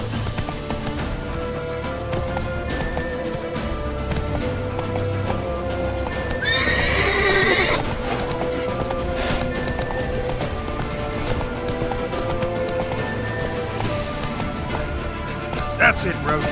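Roach the horse galloping in The Witcher 3: rhythmic hoofbeats under a game soundscape, with one loud whinny midway.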